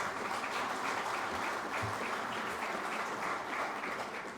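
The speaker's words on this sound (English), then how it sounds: "I think you should applaud your own hands." An audience at a Guyana oil and gas energy chamber event applauds steadily, a dense even roar of clapping that continues throughout, with no voices over it.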